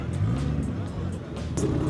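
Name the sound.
race car at a drag racing event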